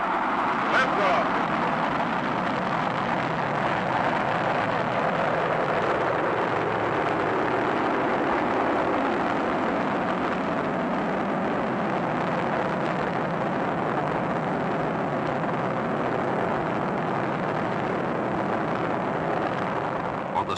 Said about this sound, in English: the training launch of a huge Air Force missile from its silos somewhere in America